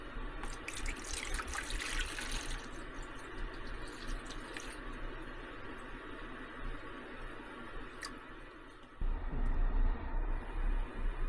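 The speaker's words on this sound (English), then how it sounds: "so I've poured in the Evapo-rust into this container." Evapo-rust rust-remover liquid is poured close up into a container, a steady splashing trickle that runs for several seconds before a louder rumbling knock near the end.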